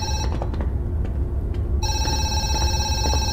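A telephone rings in the horror video game Zoochosis, its repeated electronic bell tones sounding loud and near over a low ambient drone, with no voices.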